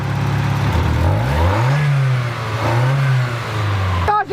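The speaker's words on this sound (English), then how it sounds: "Hit the throttle." A Mazda Miata engine revs up as the throttle is hit, rising then falling in pitch twice in loud, close bursts with a steady idle hum before and after, ending in a brief clatter.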